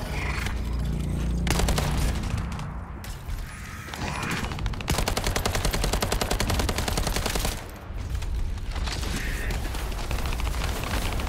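Dense, continuous automatic gunfire from the shooter game The First Descendant during a boss fight against the Hanged Man, loud and rapid with layered mechanical clatter and effects, with short dips in intensity.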